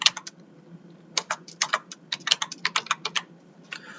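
Rapid bursts of keystrokes on a computer keyboard as a paint company's name is typed, clustered clicks with short pauses, close and clear with no talking.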